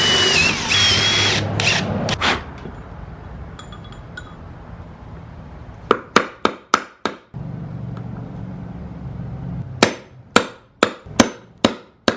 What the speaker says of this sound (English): we're going to drill those holes out